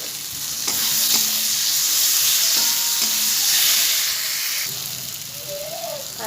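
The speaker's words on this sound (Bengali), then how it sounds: "এবার আমি মশলাটা কষিয়ে নেব" Ginger-garlic spice paste with cumin and coriander powder frying in a pan, a loud hissing sizzle that swells and fades while a utensil scrapes and knocks against the pan several times, up close with no talking.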